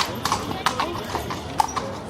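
Horse hooves clip-clop on a street in Seville, a steady run of sharp knocking steps close by, with voices talking over them.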